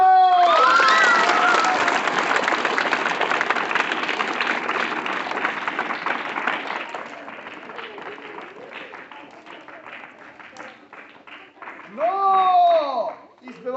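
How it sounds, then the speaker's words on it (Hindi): A classroom of students claps together in a dense, loud burst that fades over several seconds, mixed with some children's shouts, before a teacher's voice returns near the end. "ताली बजाओ।"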